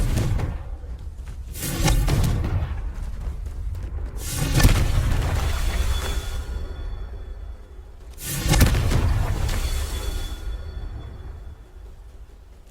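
The Confringo fire spell in Hogwarts Legacy sets off booming explosions, three heavy blasts with rumbling tails, loud and close, each decaying over a few seconds.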